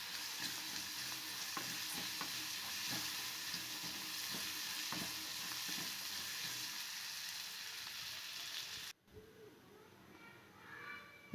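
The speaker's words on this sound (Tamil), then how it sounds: "வெங்காயம் தாளித்து போட்டுட்டுங்க" Onions and curry leaves crackle in hot oil in a tempering pan for adai dosa, a close, steady sizzle with regular stirring taps, ending abruptly in a quieter tail.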